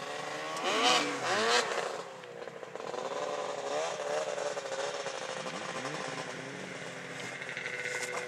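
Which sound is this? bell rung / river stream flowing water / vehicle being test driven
vehicle being test driven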